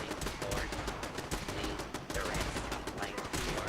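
Sustained rapid gunfire in a video game, including pipe weapons, dense automatic bursts rattling almost without pause, loud and close throughout, with faint voices underneath.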